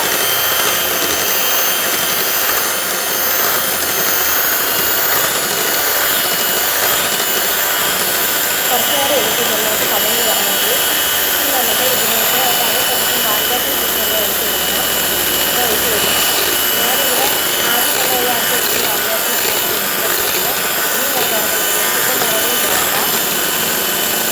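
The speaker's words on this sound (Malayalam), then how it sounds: "ഇപ്പോൾ 1 ഇട്ടാണ് ഞാനിവിടെ ബീറ്റ് ചെയ്യുന്നത്" An electric hand mixer at low speed beats plum cake batter in a bowl, making a loud, steady whirring motor drone throughout. A voice talks faintly underneath.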